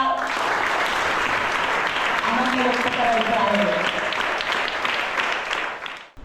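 A crowd applauds at a Konkan village celebration event marking one lakh subscribers. Dense, sustained clapping runs for several seconds with voices mixed in, then fades out at the end.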